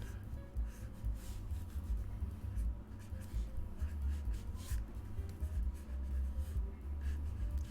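Pen drawing a caricature on paper, continuous scratchy strokes in short repeated sweeps, close and steady under a constant low background hum.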